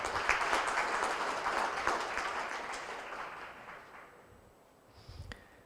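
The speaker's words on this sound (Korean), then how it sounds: "큰 박수 부탁드리겠습니다." Audience at an academic society's startup award ceremony gives a round of applause, dense clapping loud at first and gradually thinning and fading away, with a few stray sounds near the end.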